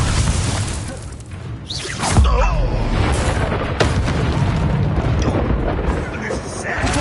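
The Confringo explosive spell cast in Hogwarts Legacy, a loud booming blast with a crackling burst near the middle, set among ongoing combat effects and spoken spell incantations.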